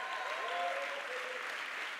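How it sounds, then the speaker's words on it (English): A church congregation applauds steadily during a sermon, the clapping soft and distant as a brief even wash. "Clap like you trust in God today."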